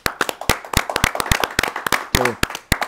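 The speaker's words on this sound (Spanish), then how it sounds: "Vamos a darle un aplauso a los adultos mayores, monseñor" Close, sharp hand claps ring out in a church as people applaud the elderly on their day, irregular and loud individual claps rather than a dense roar, with a brief voiced sound near the end.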